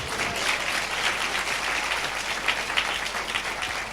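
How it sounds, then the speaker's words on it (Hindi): A church congregation applauds at a Sunday service, a dense steady wash of many hands clapping together throughout, moderately loud, with no clear speech over it. "ताली बजाएंगे, हालेलुया"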